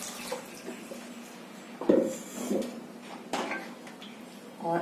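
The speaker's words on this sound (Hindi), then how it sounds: "ये पानी इसमें ऐड कर रही हूँ" Water is poured into a cooking pot on the stove, with a couple of brief splashing gushes and some soft clinks heard close against a quiet kitchen background.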